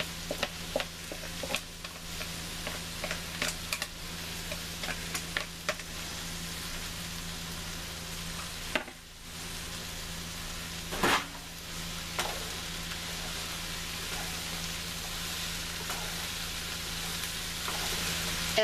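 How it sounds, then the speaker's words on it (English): Chopped zucchini and eggplant sizzle in a hot pan for a vegetable korma, a steady crackling fry with intermittent stirring scrapes and clatters, close and fairly constant throughout. "Now I'm adding my zucchini and eggplant."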